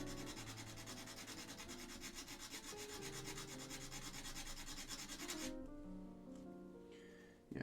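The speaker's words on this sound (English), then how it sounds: "Now we're ready to start filing." A hand file rasps back and forth over keyboard parts during an Alps SKCM Black switch build, making close, steady rhythmic strokes for several seconds before stopping.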